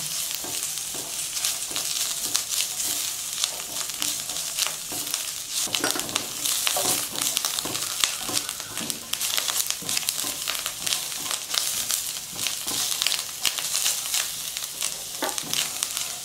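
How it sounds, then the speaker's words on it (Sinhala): Ground ginger frying in a pan, a continuous soft sizzle with occasional stirring scrapes, steady and fairly quiet, no voices. "අපි දැන් මේ ටික සුවඳ එනකම් බැදගමු"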